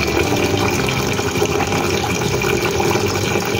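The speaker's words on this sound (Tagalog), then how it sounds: "Lagyan po natin ng malinis na tubig kasi ito na rin po ang gagamitin natin pang sabaw mamaya." Clean water pours and gushes loudly into a pot of mung beans for a Filipino ginisang munggo stew, a continuous splashing fill heard up close with no talking.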